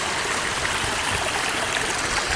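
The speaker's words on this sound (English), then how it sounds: "These riffles cause oxygen in water, and the more riffles you see at a river, the healthier it is." River water rushes over shallow riffles in a constant, broad, even wash of burbling flow, close and steady throughout with no voices.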